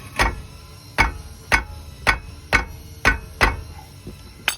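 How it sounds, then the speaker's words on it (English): A wrench tapped against a brake caliper knuckle bolt on a 2017 Nissan Murano during a rear brake job, giving about eight crisp metallic knocks at an even, slightly under-one-second rhythm, close and clear. "I'm just gonna get my wrench on it and just give it a tap with the"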